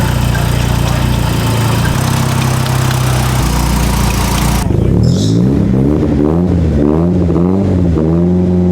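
A Nissan 180SX with an SR20 engine idles close by, with a steady mechanical drone; partway through the tone shifts and a wavering, cyclic whine or pulley-like noise rises and falls in a regular rhythm.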